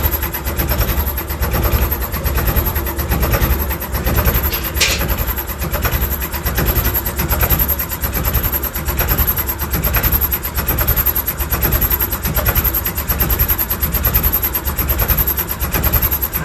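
A Ford 3600 tractor engine with a radiator problem runs at idle close by, a loud, steady low chugging with a regular pulsing throb throughout.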